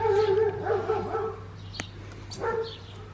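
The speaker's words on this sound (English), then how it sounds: "Neighbors' dogs are barking like crazy." Neighbors' dogs barking outdoors near a garden, a few yips and barks with a whimpering tone in the first half, then a couple more barks, moderately close over a steady background hum.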